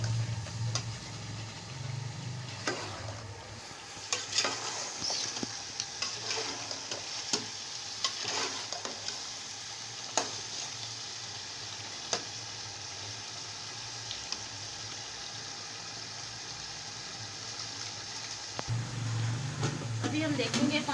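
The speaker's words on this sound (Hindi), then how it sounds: "चिकन को अच्छी तरह भून लेते हैं।" Chicken fries and sizzles in a pot while being browned for biryani, a steady hiss broken by sharp scraping and stirring clatters. Voices can be heard now and then over the cooking.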